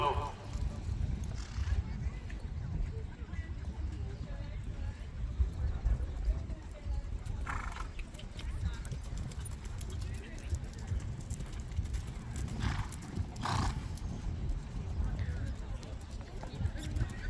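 Horse hooves clip-clop steadily at a cornhole game event in the Philippines, mixed into constant crowd chatter and background noise that stays fairly loud throughout.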